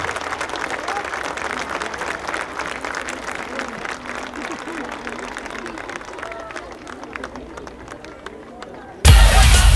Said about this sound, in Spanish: Están esperando el aplauso de todos ustedes